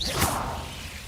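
Confringo spell cast in Hogwarts Legacy, a single loud whooshing whip-like burst that fades within a second, heard alone without talk.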